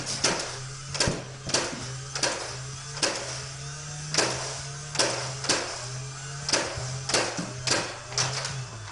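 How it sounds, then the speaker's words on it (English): A Nerf Rival Charger MXX-1200 blaster is test fired in a rapid series: sharp, loud snapping shots about every half second over a continuous motor whir, with no talking. "we're now ready to make a test fire and see how powerful this Nerf Rival Charger right here"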